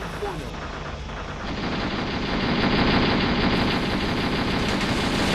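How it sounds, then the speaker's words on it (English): Steel Armor: Blaze of War game combat in Afghanistan, with a dense, continuous rumble of gunfire and a low engine drone, loud and sustained, without separate clean shots standing out. "He's shooting at me. That's a sniper."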